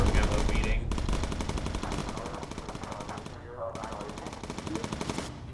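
Rapid machine-gun fire from a bomber's turret in the video game Bomber Crew, two long sustained bursts with a brief pause between, loud and steady over engine drone.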